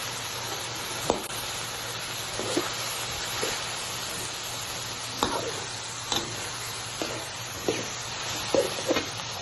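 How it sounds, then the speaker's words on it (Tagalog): Garlic and onion sautéing with bagoong shrimp paste and its liquid: a faint, even background sizzle punctuated every second or so by soft stirring taps and scrapes, with no talking. "Ginisa ko na yung bawang sibuyas at patis ng bagoong"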